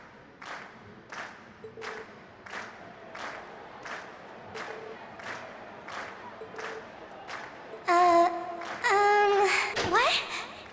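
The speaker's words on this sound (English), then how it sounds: "Ladies and gents, you've been a wonderful crowd, and we've heard your cheers loud and clear." Crowd cheering and applause at a concert in The Legend of Heroes: Trails of Cold Steel, heard as evenly spaced rhythmic bursts of clapping and cheers, followed near the end by brief tonal, voice-like calls.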